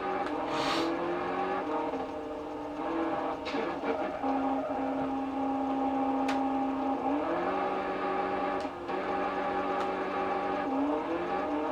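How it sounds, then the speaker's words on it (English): Droning vehicle engines in the PS2 game Action Man A.T.O.M. hum continuously, with pitch rising and falling in steady whining tones and a few sharp clicks and bangs scattered over the top. "The sounds coming from those vehicles just getting on my nerves now"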